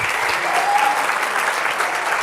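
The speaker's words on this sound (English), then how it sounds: "more applause." A seated audience at a talk on palpation and the illusion of touch gives steady, dense applause that stays loud and continuous throughout.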